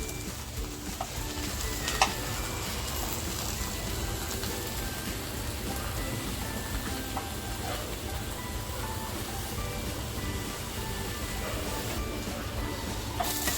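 Surmai fish frying in a pan, a continuous close sizzle and crackle running steadily throughout, with occasional faint clinks over the top.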